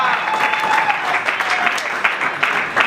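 An audience applauds at a trophy ceremony in Kinshasa honouring top ministers and officials: dense, steady clapping from many hands fills the whole stretch, with a faint voice briefly audible beneath it.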